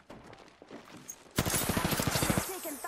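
Quiet game sounds give way to a loud burst of rapid automatic gunfire in a battle royale video game, shots hammering in a fast, regular rhythm for over a second.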